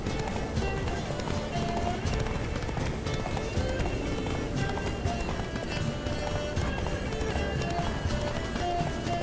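Horse hoofbeats galloping in The Witcher 3 video game, a steady rapid clip-clop running throughout under a dense game soundscape, loud and close with no pauses.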